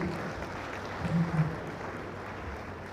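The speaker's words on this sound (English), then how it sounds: "Please, a round of applause for the Acting Registrar." Faint, scattered applause from a ceremonial audience honouring an acting registrar, quiet, distant clapping lasting a few seconds with a low murmur beneath.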